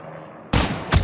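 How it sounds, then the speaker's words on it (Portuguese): A single sharp SMG gunshot from Call of Duty: Mobile, loud and close, followed by a second punchy report just after, over quiet background. "Vou dar o primeiro tiro, Otávio"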